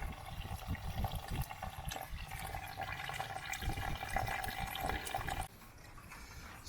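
Worm tea drains out of a worm bin in a continuous watery trickle and splash that flows steadily for several seconds, then drops off to a quieter background.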